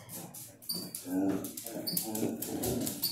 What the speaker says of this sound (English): my dog going crazy like usual